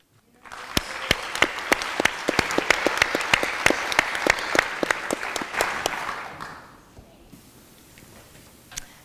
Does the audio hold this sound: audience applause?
yes